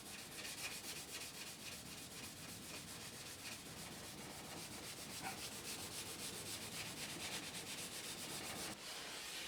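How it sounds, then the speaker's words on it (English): Fine abrasive polishing paste is rubbed by hand along the edge of an acrylic Perspex sheet, a steady, close, continuous scrubbing with quick back-and-forth strokes and no voices. "So all you need to do is put some on the edge and give it a good rub."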